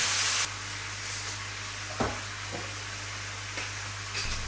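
Soya tuna frying in butter gives off a steady, close sizzle, with a few brief scraping clicks as it is stirred in the pan.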